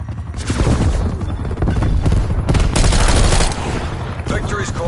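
Sustained automated turret fire in a PS4 video game, a dense run of rapid gunshots and booms filling the whole stretch at close, loud level, with game voices faintly mixed underneath.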